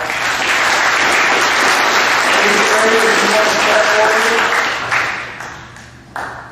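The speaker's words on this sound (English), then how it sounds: "look for more round of applause" A crowd claps loudly and continuously at a middle school awards assembly, a few faint tonal pings mixed in, before the applause tapers off and a voice speaks briefly.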